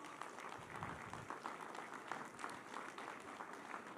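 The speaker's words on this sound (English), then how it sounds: "Give Joe a round of applause." Audience applause fills a Philadelphia town hall meeting, a dense, steady wash of many hands clapping at moderate loudness from start to finish, with no voices rising above it.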